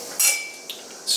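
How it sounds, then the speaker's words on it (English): A spoon clinks a few times against a pot while hot and sour soup seasoned with white pepper is stirred; the clinks are short, bright and close, with no talk. "Stir it up."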